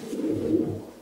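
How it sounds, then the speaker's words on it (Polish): A breeding pigeon held in the hand gives a low, soft cooing call, close and steady for about a second with no other sounds. "Ale bardzo ładny gołąb, bardzo fajnie trzyma się w ręce"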